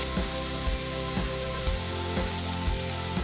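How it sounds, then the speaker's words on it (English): Meat browning in a hot pan for a roast, a constant loud sizzle with periodic soft thumps and scrapes as it is moved and turned, and no voices. "you can turn the meat over. You'll see it's nicely browned, and let it brown for about 2 minutes on the other side"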